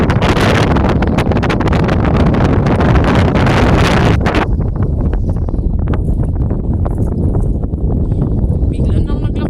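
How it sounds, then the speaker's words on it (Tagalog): Strong wind roars across the microphone on a boat at sea, a loud, steady buffeting blast that drops back somewhat after a few seconds and keeps gusting, with people talking underneath. "Bigla nang naglakas yung hangin."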